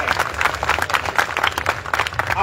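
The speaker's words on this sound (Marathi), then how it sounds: "सर्वांनी भरणे मामा आणि अजितदादांचं टाळ्या वाजवून स्वागत करायचं" An audience at a political party joining ceremony in Indapur claps to welcome leaders, a dense burst of many hands applauding at close range, loud and steady throughout with a faint murmur underneath.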